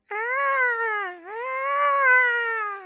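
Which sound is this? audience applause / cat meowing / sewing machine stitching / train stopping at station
cat meowing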